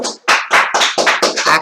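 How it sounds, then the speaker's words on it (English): People clap in a quick burst of about eight sharp, close hand claps, loud and dry, with no one talking. "We have people clapping for me."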